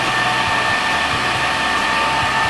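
A handheld hair dryer blows on hair with a loud, steady whooshing hiss, while a low pulsing hum rises and falls rhythmically as it is shaken back and forth.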